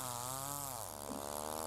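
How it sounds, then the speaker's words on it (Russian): A saw cuts through firewood in a village yard with a steady, continuous buzzing drone at low level, the pitch dipping briefly midway as the blade bites, then recovering. "чисто вот дядя Миша и Алексей пилят."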